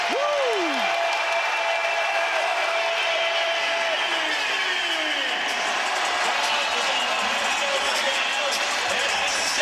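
A basketball arena crowd at an NBA playoff game between the Toronto Raptors and Philadelphia 76ers cheers and applauds in a continuous loud roar, with sneaker squeaks and a commentator talking over it.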